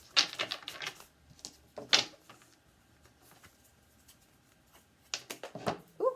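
Several bursts of crisp tarot card riffling and flicking, clustered at the start and end with quieter rustling in between, close by with no talking.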